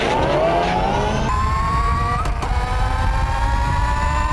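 An electric 4-speed dirt bike rated at 64 mph and 90 volts is being ridden, its motor whining upward in pitch through a gear change over steady wind and road rumble, loud and close, no talk.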